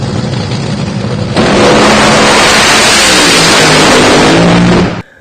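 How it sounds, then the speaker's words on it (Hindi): Drag racing car engine roaring at extremely loud volume, a rumbling idle that jumps into a sustained full-throttle blast before cutting off abruptly near the end. "ड्रैग रेसिंग कार 150 डेसिबल का खतरनाक साउंड पैदा करती है।"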